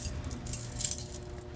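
Elevator floor lockout keys jingle and clink together close by in a short burst of bright metallic rattling, set against a faint low hum from the elevator.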